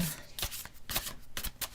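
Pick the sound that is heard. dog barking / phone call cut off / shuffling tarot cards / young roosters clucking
shuffling tarot cards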